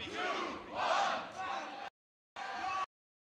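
Crowd at a beatbox showcase battle cheering and shouting loudly for a couple of seconds, then a short abrupt second burst after a silent gap.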